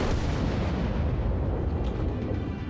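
Heavy ship guns in World of Warships fire in a dense, booming roar of overlapping blasts, loud and continuous throughout.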